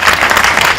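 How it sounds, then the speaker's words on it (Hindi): An audience at a drama academy's stage performance bursts into dense, loud applause, a steady wash of many hands clapping together without a break for under a second. "तो जोरदार तालियों से आपको"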